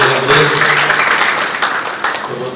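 A seminar audience at an Indonesian national aerospace event breaks into sustained applause, a dense wash of many hands clapping near and loud, with some voices mixed in.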